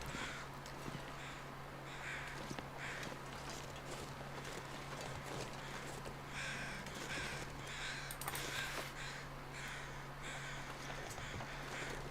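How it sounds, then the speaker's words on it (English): Crows cawing in the survival video game The Long Dark, repeated harsh caws scattered through a faint outdoor ambience with a low steady hum underneath. "let's find out what the crows are"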